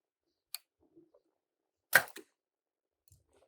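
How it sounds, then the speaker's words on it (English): An arrow is loosed from a bow drawn with a thumb-style hunting release: a sharp, brief crack followed by a quick burst, set among a few faint clicks in near silence. "Oh, did you hear that arrow?"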